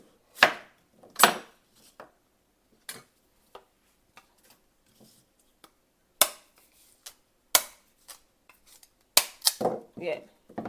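Sugarcane stalks being chopped up with a blade, a series of sharp, separate cutting thuds with quiet gaps between them, near and fairly loud.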